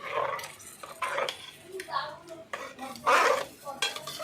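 A spoon scrapes and clanks against a cooking pot as fried spices are stirred into khichuri, with irregular close metallic knocks and scraping strokes and a faint background voice.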